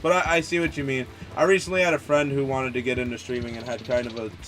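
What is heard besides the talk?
No distinct noise like a dog, phone or traffic.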